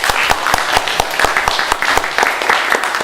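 Audience at a university debate on masculinity applauds a panelist being introduced, loud and close, with a dense wash of clapping and sharp, regularly spaced nearby claps standing out throughout.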